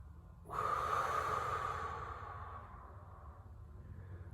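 A single slow, deep breath taken during a cool-down stretch, close and soft, a long breathy rush that fades gradually into quiet.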